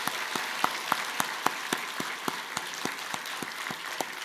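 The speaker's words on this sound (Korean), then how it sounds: "박수 한번 부탁합니다" A church congregation at a Christmas service applauds in thanks, many hands clapping in a steady rhythm with sharp individual claps standing out over the crowd.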